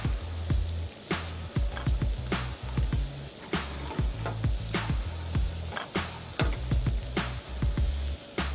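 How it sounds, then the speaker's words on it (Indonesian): Ginger, lemongrass and shallots sauté in a hot pan with a steady close sizzle, broken by repeated rhythmic scrapes and knocks of a utensil stirring through the mix. "Oke, ini semua akan kita tumis."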